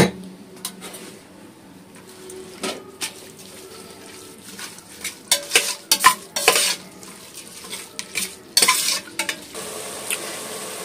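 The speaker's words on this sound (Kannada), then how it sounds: "ಇವಾಗ ಚೆನ್ನಾಗಿ ಕುದೀತಾ ಇದೆ. ಟೊಮೊಟೊ ಬೇಯ್ತಾ ಇದೆ." A tomato mixture cooks in a pot for pulao, with a low bubbling sizzle and irregular clinks and scrapes of a spoon against the metal, growing busier and louder toward the end.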